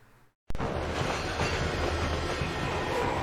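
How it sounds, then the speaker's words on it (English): A train rushes past in the PSP video game Spider-Man 2, cutting in abruptly after a brief silence as a loud, steady roar of rolling wheels with a clattering rhythm and low rumble, no speech. "this train here, I've heard in the past that apparently doesn't actually exist"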